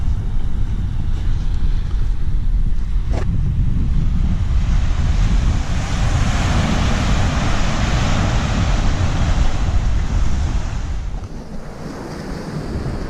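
Ocean waves wash onto a beach at Cape Leveque on the Dampier Peninsula, with steady wind buffeting the microphone; continuous broadband surf roar with no talking, easing slightly near the end.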